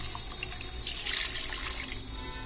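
Milk pours into a non-stick pan on a lit stove while making phool makhana payasam. A soft, steady liquid splashing runs for a couple of seconds with no talk.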